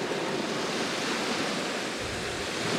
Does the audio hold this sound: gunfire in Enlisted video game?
no